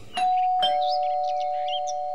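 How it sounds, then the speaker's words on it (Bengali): A doorbell rings at night, two sharp strikes followed by a sustained electronic chime melody of several notes, close and clear, with no talking. "কথা বলার পরেই কলিং বেল বাজল।"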